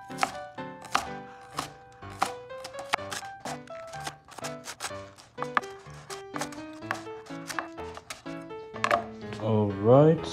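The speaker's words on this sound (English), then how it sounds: "next, green onion. I'm gonna cut off the bottom." Knife chopping green onion on a cutting board in a kitchen, a steady run of sharp close taps with clear tonal talk or background sound over it, ending in a louder sizzling burst.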